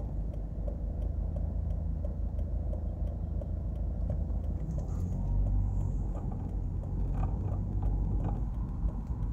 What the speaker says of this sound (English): enjoy the drive through Washington Gardens